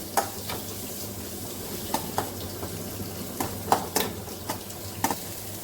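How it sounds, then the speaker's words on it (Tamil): Mustard seeds, onion and curry leaves sautéing in a pan for a Tamil potato poriyal, with a steady soft sizzle and scattered sharp scraping clicks of a ladle stirring, close and without talk. "கடுகு வெங்காயம் கருவேப்பிலை போட்டு வணக்கிக்கலாங்க"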